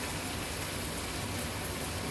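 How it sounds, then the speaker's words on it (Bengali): Light rain falls outside in a steady, even patter and hiss, with no voices and no break in the sound. "পিট পিট বৃষ্টি পড়তেছে বাইরে।"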